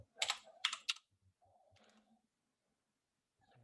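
Several quick bursts of key clicks on a computer keyboard, close and fairly soft, followed by a short pause and a few faint scattered taps, with no talking.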